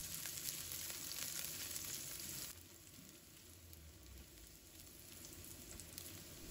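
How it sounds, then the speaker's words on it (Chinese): Ginger and garlic sizzle in hot oil in a wok, a bright, steady crackle that drops to a softer frying hiss partway through, with no one speaking. "油热之后，我们先把姜蒜放入锅中"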